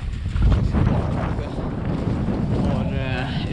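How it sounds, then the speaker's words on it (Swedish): Strong wind buffets the microphone with heavy low rumbling gusts throughout, with a faint tonal whine near the end. "Blåser idag ganska mycket."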